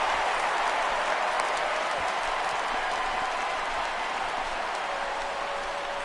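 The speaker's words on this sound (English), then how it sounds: "This crowd oohs and ahs every time this guy hits a fly ball" Crowd noise fills a packed baseball stadium at the 2016 MLB All-Star Game in San Diego, a dense, continuous roar of cheering and clapping as a fly ball goes up, steady throughout.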